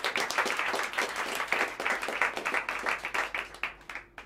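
Warm applause from a small club audience at a live jazz quartet set, clear rhythmic clapping close by that gradually thins out toward the end.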